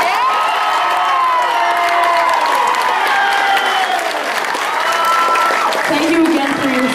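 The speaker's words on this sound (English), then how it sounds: "Can we have one more round of applause for these people?" Audience at a middle school talent show applauds and cheers after the winners are announced, sustained clapping mixed with whoops, shouts and children's voices, with talk and a tonal sound rising over the crowd.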